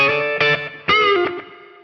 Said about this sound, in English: that little bit of a slap echo, just in case I'm playing like something kind of country.